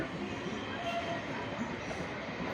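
A local train departing a station rumbles steadily nearby, a continuous broadband roar of wheels and carriages without distinct pauses.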